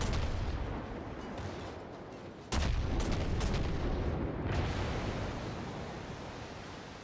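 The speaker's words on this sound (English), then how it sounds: "Look at these American guns just cut loose." American naval guns fire in a naval warfare video game, heard as a sudden heavy boom over a dense roaring wash of noise, followed by several more rumbling blasts that fade gradually.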